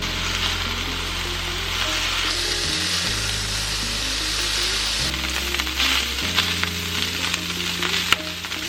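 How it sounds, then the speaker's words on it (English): Meat searing in a hot pan for Philly cheesesteak, a steady bright sizzle running throughout under a backing of music. "We want a good sear on this meat, so we're going to allow this to cook for about 5 minutes before flipping."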